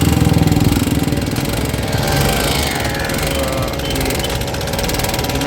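A Honda Activa BS6 scooter engine, run without oil and with a damaged piston, idles with a steady, loud mechanical clatter and rapid knocking ticks throughout, close by with no talk.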